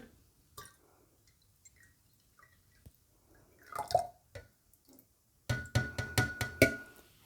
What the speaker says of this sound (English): now I'm going to pour my water and paint mixture on top of the baby oil